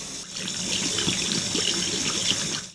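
Water rushes steadily through a water meter calibration machine, a close, continuous splashing flow like a running tap that cuts off abruptly at the end.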